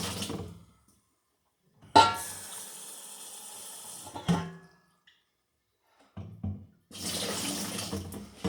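Water splashes and sloshes as a glass carboy is rinsed out, coming in several loud bursts separated by short quiet gaps, close to the microphone with no talking.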